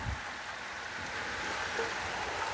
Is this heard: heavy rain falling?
yes